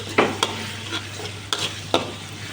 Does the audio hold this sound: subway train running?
no